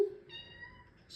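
A house cat gives a single short meow, faint and close, after a brief thump at the start.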